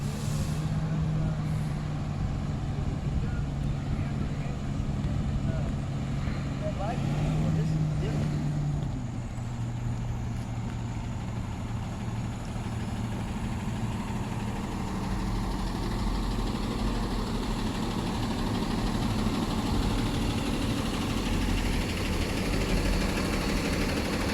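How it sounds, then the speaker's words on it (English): A bus engine idles and then pulls away from a car-crash scene, a low diesel rumble with a brief air-brake hiss, heard at moderate distance. Outdoor ambience and occasional voices sit around it. "There's the bus moving away."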